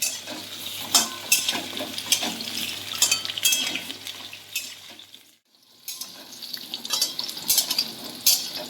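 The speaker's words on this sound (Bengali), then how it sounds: "এবার আমি পেঁপেগুলো ভেজে নেব পেঁপেগুলো দিয়ে দিলাম পেঁপেগুলো একটু হালকা আবার ভেজে নেবো" Papaya pieces fry in a pan for a mixed vegetable curry, a steady sizzle broken by scraping stirs and pan knocks, with a brief quiet gap midway before the frying resumes.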